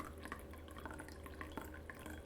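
Brewed coffee poured from a Kinto carafe after a metal-filter brew: a steady, gentle liquid trickle with small splashes and drips, close and fairly quiet, with no talk.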